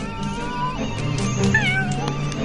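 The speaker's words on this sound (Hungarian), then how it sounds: "Ez lehet Myers asszony harmadik macskája" A cartoon cat meows several times in quick succession, its voice rising and bending in pitch, close and clear over a steady background of score and ambience.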